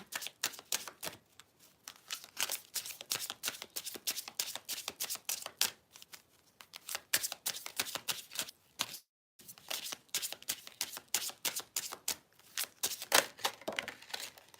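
A deck of Twin Flame oracle cards being shuffled by hand, close and crisp, with repeated rapid riffling bursts separated by short pauses.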